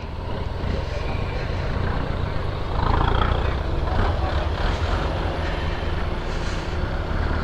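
A motorbike pulls away up a steep road between Dighinala and Sajek Valley, shifting from first into second gear, its engine a steady close drone that swells briefly partway through with wind noise.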